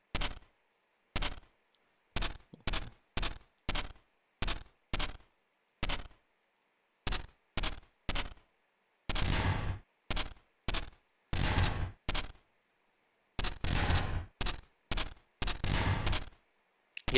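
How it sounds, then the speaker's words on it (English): A cannon turret firing in the tower-defense game Neon Defense: sharp, separate booming shots at a slow, uneven pace, sometimes in quick pairs, loud and close against silence. "Okay, and there we go, we got a cannon turret."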